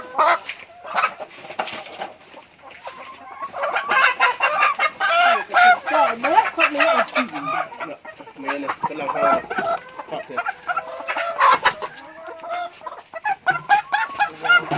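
A flock of laying hens clucks loudly and almost constantly at close range, while people talk now and then among them.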